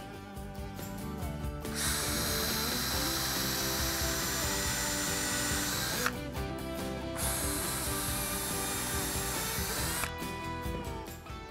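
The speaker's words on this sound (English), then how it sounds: "We'll just pre-drill 2 holes and screw it in." A power drill whirs steadily in two long bursts with a short pause between, loud and close, with brief ratcheting clicks at the start and end.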